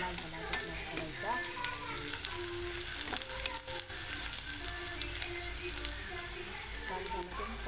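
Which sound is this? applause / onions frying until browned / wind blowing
onions frying until browned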